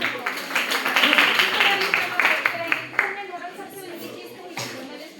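Audience applause at a school or college celebration, a dense wash of clapping that swells early and then slowly thins, with voices and crowd murmur mixed underneath.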